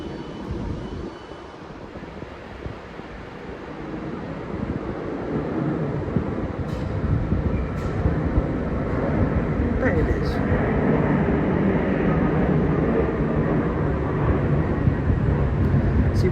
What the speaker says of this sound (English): Train now departing is a 197 going to Fishguard Harbour, I think it is